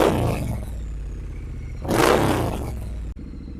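A Triumph Scrambler 900 fitted with a Vance and Hines exhaust idles with a throaty rumble, then is blipped into a loud rising roar before it falls back and the throttle snaps shut.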